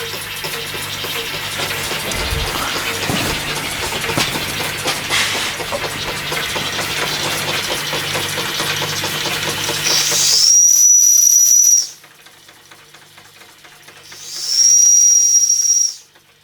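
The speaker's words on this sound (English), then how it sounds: "if you can get a steam engine to run slow like that" A vintage Bing-Wolf model steam engine hisses steadily for about ten seconds, running slowly, then two loud, shrill whistle blasts sound with a quiet gap between them.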